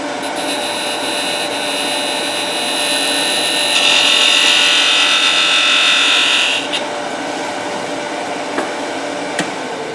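A wood lathe spinning a ball box while a skew chisel cuts, giving a steady whirring hiss with a high whine that swells louder midway for a few seconds, then settles back, ending with a couple of small knocks.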